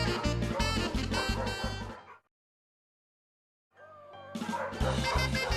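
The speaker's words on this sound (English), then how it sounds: "Puppies barked at bunnies" Cartoon puppies in a children's story barking in quick, rapid runs. The barking sounds close and loud, then breaks off into about a second and a half of silence before starting again.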